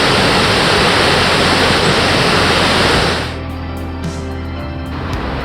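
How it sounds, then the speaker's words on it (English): Jōren Falls, a waterfall pouring over volcanic rock, gives a loud, steady broadband roar close by, then drops suddenly to a quieter, more distant rush partway through. "And here's the top waterfall."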